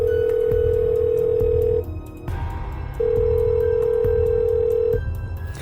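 A telephone rings out as a call is placed to a school: two long, steady electronic ring tones separated by a short pause, loud and close over a low background hum.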